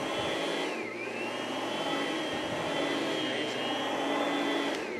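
An Oreck upright vacuum cleaner runs steadily on carpet with a loud, continuous motor whine whose pitch dips briefly near the start and again toward the end, heard up close with no talking.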